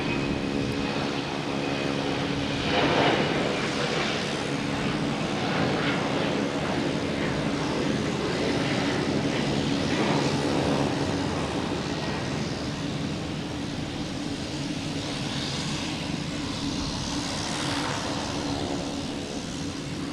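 JetBlue Embraer E-190 jet departing Boston Logan Airport for Savannah, loud sustained engine roar with whining tonal layers that rises and shifts as the airliner moves off, steady throughout without talk.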